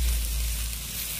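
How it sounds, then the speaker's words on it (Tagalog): Salted egg being stirred into a hot frying pan, a brief, loud, close sizzle with a broad hissing texture and a low rumble underneath. "Kailangan ko nang ilagay ang itlog maalat. Haluin ng maigi."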